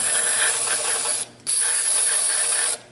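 Brake cleaner sprays from an aerosol can onto oily cast iron in two loud, steady hissing bursts separated by a brief pause, with no voices present.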